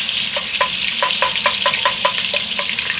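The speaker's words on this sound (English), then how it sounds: "butter's just about melted. Just waiting on that to melt." Butter melting in a pan sizzles loudly and steadily, with a regular rhythm of soft stirring scrapes over the constant frying hiss.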